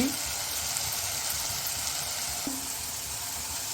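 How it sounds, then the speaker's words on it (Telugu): Eggplant masala curry sizzling steadily in a pan, a soft continuous fry with a couple of faint stirring scrapes, no talk. "ఇప్పుడు మధ్యలో ఒకసారి మూత తీసి కలుపుకోండి"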